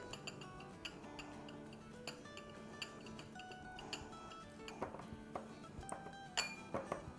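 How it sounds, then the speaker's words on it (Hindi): A spoon clinks against a glass or bowl while green food colouring is stirred into a biscuit trifle dessert mixture, light, irregular ringing taps close by, fairly faint and unaccompanied by speech. "तो अब इसको हम हिला लेंगे।"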